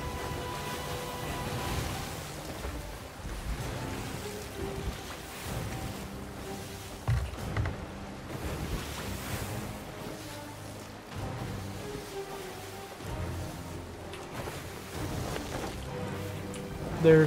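Ships sail across open ocean in a video game, heard as a steady, continuous wash of waves and wind with a low rumble running throughout.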